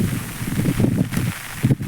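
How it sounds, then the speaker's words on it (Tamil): Strong cyclone wind during Cyclone Fengal blusters in gusty, rough bursts close to the microphone, swelling and easing over about two seconds with no voices. "காற்று பலமாக தான் அடிச்சிட்ருக்கு"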